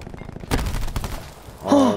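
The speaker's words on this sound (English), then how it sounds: "There's been too many times they've been shooting right next to us." Gunfire in the Call of Duty Black Ops 4 prop hunt mode, a couple of sharp shot bursts close by, followed by a brief vocal sound at the end.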